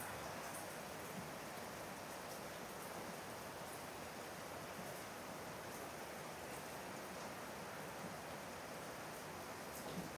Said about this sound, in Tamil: பார்த்து இப்போ சரியான மழையாக இருக்கு.